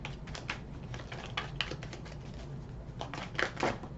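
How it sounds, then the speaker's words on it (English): Tarot cards shuffled by hand in a dense, continuous run of quick papery riffles and taps, close and fairly quiet, with no talking. "Actually, let me give them a shuffle."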